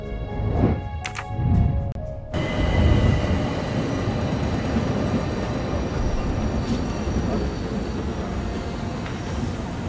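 A luxury train from the Murder on the Orient Express video game rolls along with a steady, loud rumble of wheels and carriage noise, which fills the clip after a brief quieter opening with some knocking.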